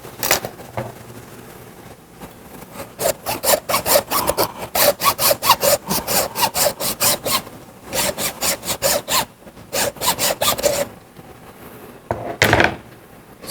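A saw cuts through a pork joint in steady rasping back-and-forth strokes. The bursts are loud and close and come in several runs with short pauses between them, and no one talks.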